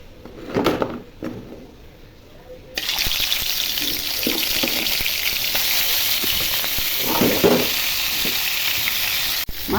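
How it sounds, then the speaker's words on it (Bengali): Pieces of snakehead fish drop into hot oil and set off a sudden, loud, continuous sizzle. Faint handling clatter comes before it, and the frying hiss stays steady and close. "তেল গরম হয়ে গেছে, মাছ ছেড়ে দিব।"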